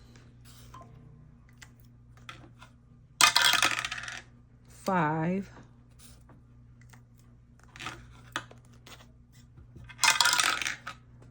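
Dice roll and clatter across a hard surface during a dice game, heard as a few separate rattling bursts spaced apart, with a brief voice speaking between them.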